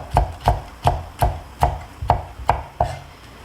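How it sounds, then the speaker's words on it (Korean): A knife cutting cucumber peel into thin strips on a board, eight distinct, evenly spaced chopping thuds in quick succession, close and clear with nothing else heard. "자, 그리고 우리는 껍질 부분을 이렇게 또 채 썰어서"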